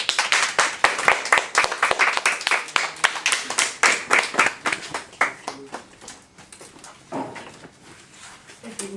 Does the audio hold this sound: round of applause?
yes